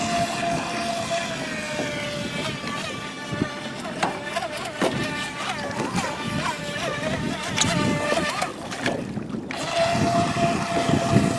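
A small motor whines steadily over water, its pitch rising and dipping as it speeds up and turns, with wind buffeting in the background.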